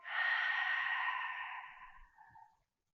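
A single deep, breathy exhale during an abdominal workout, close and clear, trailing off softly after about two and a half seconds.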